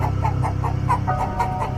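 A chicken having its neck twisted, giving repeated short squawks and clucks in a quick rhythm, close and fairly loud.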